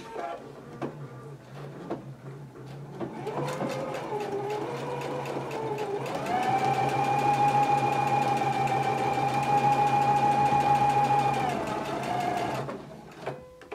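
A Husqvarna Viking Epic 980Q sewing machine with presser foot H stitches through two layers of fabric. The motor hums up, runs in a sustained, even whir for several seconds, then stops, with small clicks before and after.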